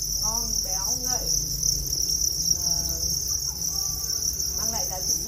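Steady high-pitched chirping from farmed crickets fills the background, with soft tonal sounds and faint low rumble underneath.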